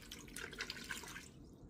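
Very warm tap water pours into a bowl for no-knead artisan bread dough, a close, steady splashing and trickling stream that tapers off near the end.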